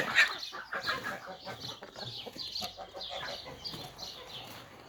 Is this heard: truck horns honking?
no